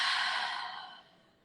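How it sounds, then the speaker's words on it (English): A single deep, breathy exhale during yoga breathing, close and airy, fading steadily over about a second and a half. "And then take a big exhale to side out."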